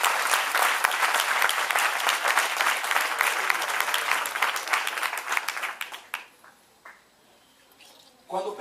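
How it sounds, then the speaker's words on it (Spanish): A church congregation at a sermon breaks into dense, sustained applause that fills the room, then thins and fades out to near silence toward the end, with a brief stir just before it stops. "Yo creo que ese aplauso debe ser mejor."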